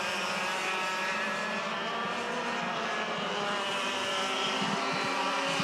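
Several 100cc Yamaha senior racing kart engines buzz together during a race, a steady, high-pitched droning whine that holds without a break, fairly loud and blended like a passing pack.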